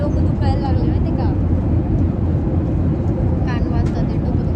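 Airplane engine noise inside the cabin during flight, a loud constant low roar filling the whole clip, with brief voices and faint chatter over it.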